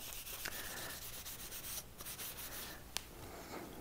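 A protective finish is rubbed into wood with steady, close, soft scrubbing strokes that run continuously, with a brief pause and one sharp tap midway.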